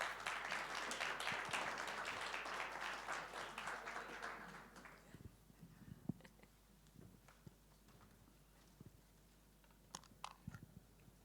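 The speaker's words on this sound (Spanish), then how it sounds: "Démosle un fuerte aplauso." Audience applause welcoming a speaker onto the stage at a district energy conference, loud sustained clapping for about four seconds that fades into scattered claps and faint room noise.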